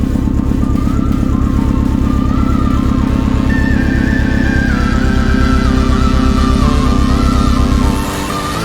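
A Subaru WRX STI fitted with a bigger turbo runs steadily, its loud, close engine drone holding an even pulsing rumble with a faint rising and falling whine above it, then dropping off abruptly near the end; no one talks.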